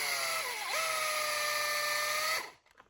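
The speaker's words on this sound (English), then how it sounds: "It's a DeWalt. This one's a hammer drill and everything." An old, worn DeWalt hammer drill whines steadily at high speed, dips briefly in pitch, then runs on for about two seconds before it cuts off and winds down.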